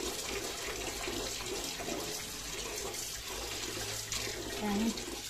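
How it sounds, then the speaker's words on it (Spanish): Lukewarm water runs steadily from a kitchen tap, a continuous hiss and splash of moderate loudness lasting throughout, with faint background noise underneath. "El agua está también tibia, la del grifo"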